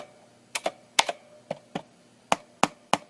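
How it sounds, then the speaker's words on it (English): Mechanical keystrokes on an EagleTec KG010 mechanical gaming keyboard, about eight sharp, loud clicks in uneven pairs and singles, each with a faint springy ring, close up with no talking. "it's obviously loud, sounds like a mechanical keyboard"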